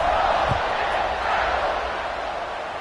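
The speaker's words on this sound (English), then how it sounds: "this crowd is buzzing after that last score" A football stadium crowd keeps up a loud, continuous roar and murmur after a college football touchdown, a broad wash of many voices with no clear breaks.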